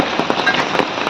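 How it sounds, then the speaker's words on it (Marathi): Steady rain falls in the open near a roadside tea stall in the Mahabaleshwar hills, a dense even hiss of drops with faint patters, heard alone without voices. "आणि समोर पाऊस"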